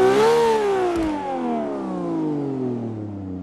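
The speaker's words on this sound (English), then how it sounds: "you can just hop in, start the engine and enjoy the beautiful sound" A sports car engine in Forza Motorsport 5 revs up to a high wail, then its pitch slides steadily downward as the revs fall away, loud and clear with no talking.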